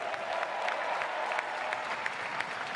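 Crowd at an LA track meet applauding steadily, a dense continuous clapping that stays loud and even throughout with no voices standing out.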